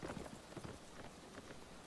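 Steady rain in the Napoleonic-era strategy game L'aigle, a dense continuous hiss with soft pattering and faint low thumps beneath, evenly loud throughout.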